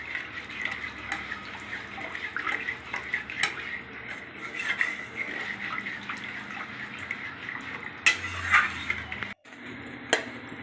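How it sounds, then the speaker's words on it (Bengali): A metal spatula scrapes and clinks against a pan of yogurt curry in steady, repeated strokes, with watery sloshing underneath and a few louder knocks near the end. "খুন্তি দিয়ে ভালো করে নেড়ে নিলাম"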